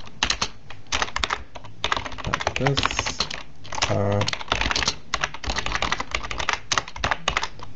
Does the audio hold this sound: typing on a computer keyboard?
yes